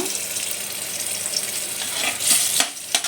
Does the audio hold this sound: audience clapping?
no